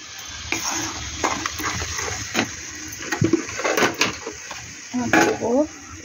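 Kashmiri chili, ground black pepper and turmeric fry in oil with an ongoing sizzle and stirring scrapes, while a person talks over the cooking.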